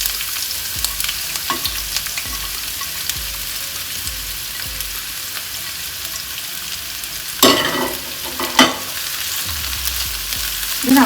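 Two large chopped onions hit hot oil in a pan and fry with a steady close sizzle, broken by louder crackling bursts and stirring scrapes near the end.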